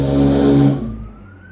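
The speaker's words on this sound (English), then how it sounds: "That loud car put me off." A loud car roars past close by, strong engine rumble fading quickly as it drives away, leaving a faint thin tone behind.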